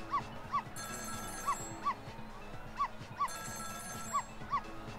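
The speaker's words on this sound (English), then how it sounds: "It was the sound of a telephone ringing coming from the apartment next door." A telephone rings in the apartment next door in the video game Ghost Trick, paired bursts of ringing in a steady repeating pattern under game music, while a dog barks and yips along in time.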